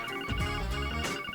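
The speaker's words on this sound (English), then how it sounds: "Oh, we're getting a phone call." A phone rings in the video game Trails from Zero, giving a clear electronic ringtone over game music with a couple of repeated tones and no voices.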